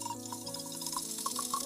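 Water is poured to drink in an animated story, a quiet trickle of small splashes and drips trailing along softly in the background.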